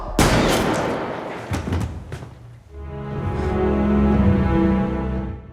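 A single sharp gunshot bursts out indoors at the start, followed by a few thuds and bangs, then a sustained tonal drone swells underneath as a film score takes over.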